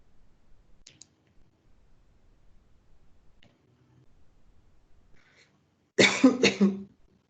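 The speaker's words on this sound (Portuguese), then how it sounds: "Procurei o mute aqui para tossir" A teacher coughs loudly several times in a quick burst partway through an online lecture, close to the microphone, after a stretch of near silence with faint clicks.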